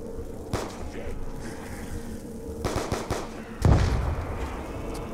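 Pistol gunfire in Call of Duty Black Ops II Zombies, heard as a few sharp game shots spread across the clip with one heavier burst near the end, over a steady game background.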